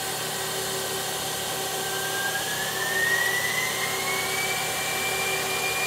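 CNC lathe live tooling on a 12-position turret spins at 3000 RPM, making a continuous, steady mechanical whine with a high tone that slowly rises in pitch over a constant hum.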